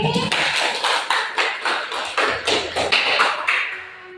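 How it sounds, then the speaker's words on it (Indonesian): A class of students claps together during a school lesson, producing a steady run of evenly spaced, fairly loud claps with voices mixed in. "Beri tepuk tangan sekali lagi"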